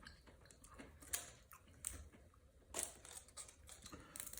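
Someone chewing crunchy garlic parmesan Brussels sprouts close to the mic, quiet wet mastication punctuated by a few sharp crisp crunches spaced about a second apart.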